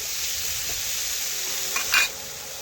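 Pointed gourd and potatoes frying together in a pan with salt, a steady close hiss of sizzling oil with a brief scrape of stirring near the end.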